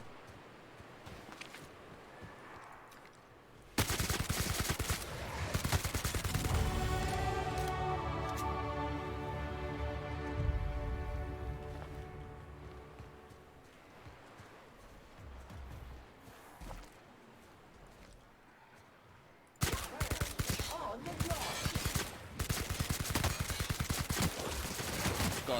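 Weapon fire in the sci-fi role-playing game The Outer Worlds, a burst of shots followed by a long ringing tonal weapon effect, then another loud burst later, moderately loud with no talk.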